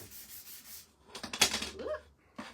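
Sandpaper gently rubs over a pink cloud rectangle for a wooden spring sign insert, a few short, soft scratchy strokes close by with no talking.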